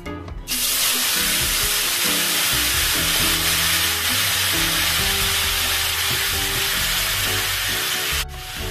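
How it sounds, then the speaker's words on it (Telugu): Chopped tomatoes dropped into hot oil in a kadai sizzle loudly, a dense steady frying hiss with stirring scrapes, close up, cutting off sharply at the end. "ఇప్పుడు ఈ టమాటోస్ మనం కడాయిలో వేస్తున్నాం."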